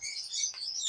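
A skittish wild songbird kept in a cage gives a quick series of high, bright chirps close by, with a brief pause midway before calling again.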